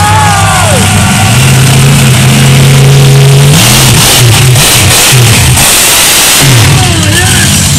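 A monster truck engine at a VW show roars loud and close, climbing and holding a steady rev before surging as the truck launches into a wheelie, with a crowd cheering beneath.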